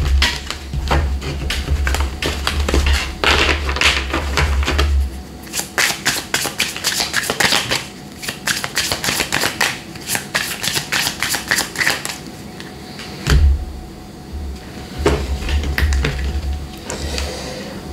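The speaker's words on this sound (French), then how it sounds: "je mélange comme promis le tarot d'une façon un peu bizarroïde pour pouvoir obtenir des cartes à l'endroit et des cartes à l'envers" Tarot cards are shuffled by hand close to the microphone, a long run of crisp riffling and flapping in repeated bursts with brief pauses, with a low rumble heard underneath at times.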